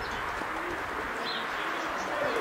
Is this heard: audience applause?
no